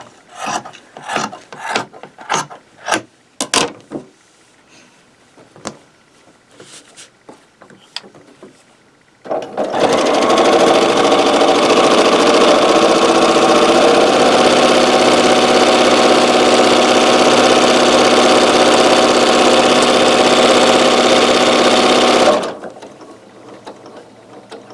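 A sewing machine stitches microwaveable bowl potholders: a few light clicks and taps first, then a long, even, loud whirring run of stitching that stops abruptly near the end.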